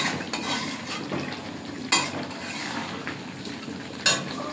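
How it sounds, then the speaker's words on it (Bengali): Potatoes being added and stirred into a pot of chicken curry in a home kitchen, soft scraping and stirring with a sizzling background and a couple of sharp clinks of utensil against the pot. "এবার আমি আলুগুলো দিয়ে দেবো এর মধ্যে।"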